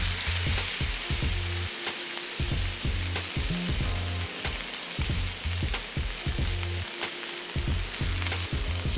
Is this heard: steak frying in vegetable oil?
yes